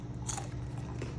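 Crunchy Jollibee fast food is bitten and chewed close up, with a sharp crunch followed by softer steady chewing and no talking.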